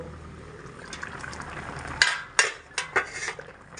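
A ladle stirs a thin potato and eggplant curry in a pot, starting with soft liquid sloshing and then a run of sharp metallic clinks against the pot's sides.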